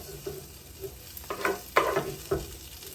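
Cooked mussels lifted out of a sizzling frying pan for egg fried rice, with a steady low sizzle and a few close clattering scrapes and shell knocks near the middle, no talking.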